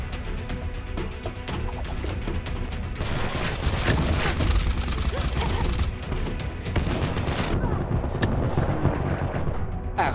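Dense, continuous gunfire from the video game Combat Master, with rapid bursts and crashing impacts running loud throughout, joined by a brief burst of speech.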